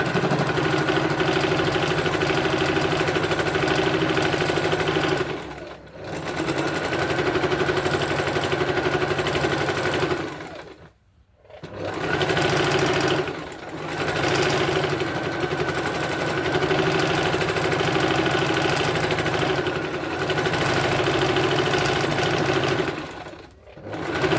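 Sewing machine stitching a chudithar pant, a steady loud mechanical whir running in long bursts with brief pauses between seams.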